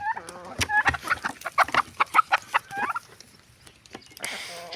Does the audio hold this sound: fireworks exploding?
no